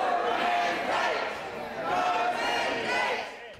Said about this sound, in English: question time was interrupted by chants from dozens in the public gallery